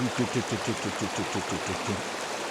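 A fast-running mountain creek in Arizona's White Mountains rushes steadily and close by, with a rhythmic churning pulse in the flow throughout.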